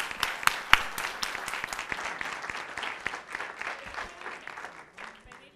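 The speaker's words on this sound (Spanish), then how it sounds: "Un fuerte aplauso para ellos" An audience claps for panel members at a legal panel event, a loud ragged burst that thins and fades over several seconds, with a few crisp sharp claps standing out near the start.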